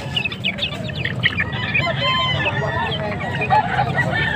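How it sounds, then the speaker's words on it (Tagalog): Baby chicks for sale at a market peep continuously in a busy chorus of high, chirping calls, with clucking fowl nearby and faint voices talking in the background. "May mga sisiw din dito."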